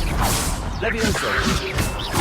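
Levioso spell cast in Hogwarts Legacy: a swishing whoosh followed by a tonal magical shimmer and soft impacts, layered game effects throughout.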